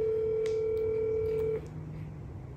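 An outgoing phone call ringing unanswered: a single steady ringback tone sounds clearly for about a second and a half, then cuts off, leaving quiet background hiss.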